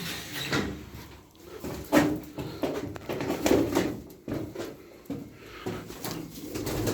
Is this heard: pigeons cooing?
yes